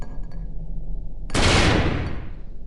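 A mine exploding in the video game Melon Playground: a sudden loud blast about a third of the way in, a broad noisy burst that rolls and fades over about a second after quieter game ambience.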